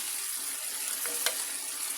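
Steady close sizzling of onion paste frying with chicken in a pan, a constant hiss with a couple of faint stirring scrapes.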